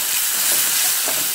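Chopped onion and tomato sauté in a pan while being stirred, giving a loud, steady sizzle with soft scraping strokes mixed in and no talking.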